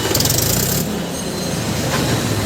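A Mahindra tractor engine running steadily just after starting during a hydraulic distributor repair, a loud continuous mechanical rumble with rattling and clatter, close by and without speech.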